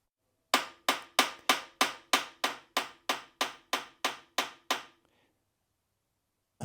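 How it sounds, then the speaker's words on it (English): A hinge pin being tapped into the mudguard of a 1/6 scale Armortek Tiger 1 model tank, heard as about a dozen crisp, evenly spaced hammer taps close by, then silence. "And now let's get the mudguard in place,"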